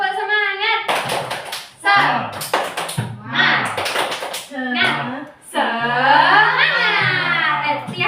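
Children at a special-needs school class chant and clap together in a rhythmic group cheer, bursts of claps and sung voices alternating, loud and close.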